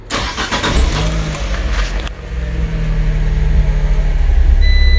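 A Fiat 500 with an ABS fault starting up: the starter cranks briefly, then the small engine catches and settles into a loud, steady idle heard up close.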